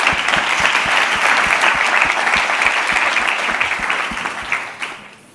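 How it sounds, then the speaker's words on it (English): An audience applauds a project presentation at a pediatric innovation event, steady dense clapping filling the room for about five seconds before tapering off at the end. "So please give a warm applause to Eva Diaz and her project"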